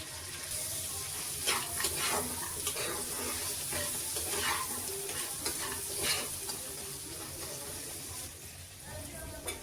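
Picked crab pieces fry in a pan with a close, hissing sizzle broken by repeated stirring scrapes and clinks, with a faint voice speaking underneath.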